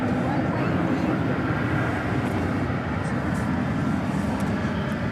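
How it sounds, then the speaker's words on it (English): A Beech 1900C turboprop runs at DFW Airport in the evening, giving a steady, loud broadband engine roar with a low rumble that holds level throughout, and a voice talks over it. "This is a Mera flight, another Beech 1900C."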